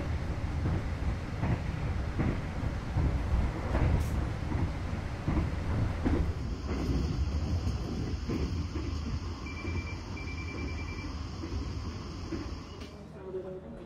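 Argo Muria passenger train on the Jakarta to Semarang line, heard from inside as a steady low rumble and rail noise, with faint talk underneath and a thin electronic tone joining partway through.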